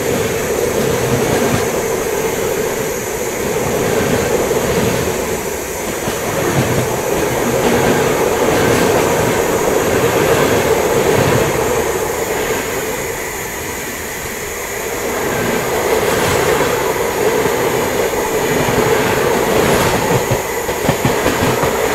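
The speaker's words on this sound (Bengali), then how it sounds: "এবার আমাদের ট্রেন ঢুকবে হচ্ছে মথুরা জংশন" The Golden Temple Mail, a passenger train, rolls steadily along the rails with continuous rumbling and rhythmic clickety-clack from the carriages, loud and close, rising and easing in intensity.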